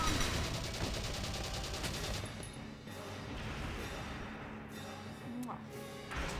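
Rapid automatic gunfire from a desert battle in the video game Valkyria Chronicles, a steady rattling burst for the first couple of seconds that fades into quieter battlefield noise under a talking voice.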